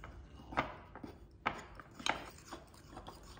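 Flour, sugar and cocoa powder are mixed in a bowl for a microwave coffee brownie, giving a few soft scraping, tapping strokes close by at irregular intervals, with no talking.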